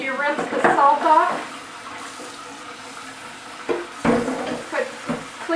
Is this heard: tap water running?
yes